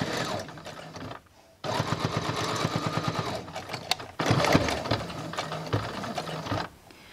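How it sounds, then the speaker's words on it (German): Sewing machine running in bursts as it topstitches close to the edge along both sides of the pleats on a fabric face mask, rapid rhythmic stitching with short pauses between runs, near and fairly loud, no talking. "Und jetzt steppe ich an beiden Seiten, knappkantig die Falten fest"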